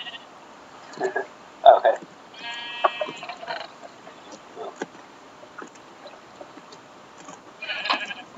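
Sheep in Minecraft bleat a few times, short wavering cries scattered across a quiet stretch with faint background noise between them.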